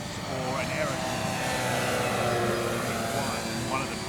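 A Hangar 9 OV-10 Bronco giant-scale twin RC model airplane with 30cc engines drones steadily over a grass field, a continuous buzzing hum with faint pitch sweeps as it passes, under distant talk.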